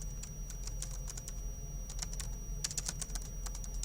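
Quick, fairly close keystrokes on a computer keyboard as a school name is entered, a steady patter of crisp clicks over a faint constant hum and low room rumble, no speech.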